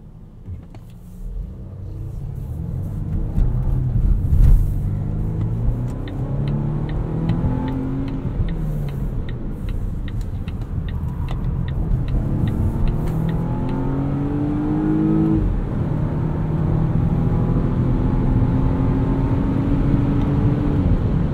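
A 2020 Volvo V60 Cross Country T5 AWD driving on the road, a steady low engine drone and road rumble with rising tones as it accelerates, continuous and close with no talking.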